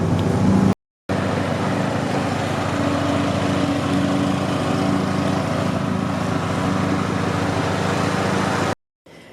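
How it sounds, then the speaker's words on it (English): A lawn mower runs nearby in a garden, a steady unbroken engine drone at constant loudness with a brief gap near the start and another just before the end. "Hubby's mowing"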